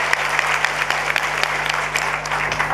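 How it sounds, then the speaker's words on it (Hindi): Dense audience applause at a motivational talk, steady close clapping from many hands throughout with a faint electrical hum beneath. "ताली बजाओ फिर तो अभिनंदन"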